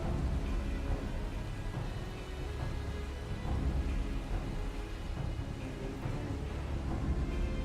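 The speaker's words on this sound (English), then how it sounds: "It has been raining a lot." Steady wash of rain with low rumbling thunder in a Final Fantasy XIV game scene, a dense continuous hiss and low roll filling the whole stretch with no clear breaks.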